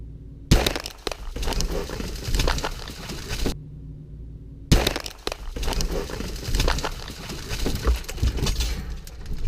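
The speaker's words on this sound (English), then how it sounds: "You see the way the back glass burst?" A car's rear window bursts as a wrecking ball smashes into it, a loud crashing impact followed by crackling, tinkling glass debris, with a second heavy crash after a brief silence.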